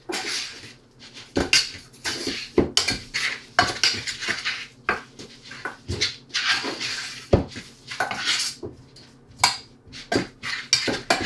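A utensil stirs and scrapes inside a mixing bowl as water is worked into a homemade play clay mix of cornstarch, giving repeated clinks and rubbing scrapes in an irregular rhythm at moderate loudness.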